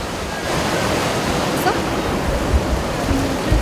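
A loud, continuous rushing roar comes from Changbai Waterfall, a 68 m vertical cascade striking rock, with a faint voice audible briefly over the steady water noise.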